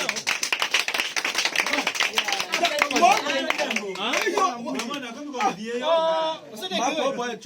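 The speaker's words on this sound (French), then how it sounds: "Acclamez très fort." A church audience applauding loudly in Gamboma, with dense, fast clapping that is strongest at the start and runs under a voice speaking and cheering throughout.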